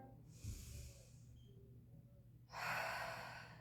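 Quiet breathing during a yoga-style exercise: a soft breath drawn in through the nose, then a longer, louder breath pushed out through the mouth, heard close and without speech.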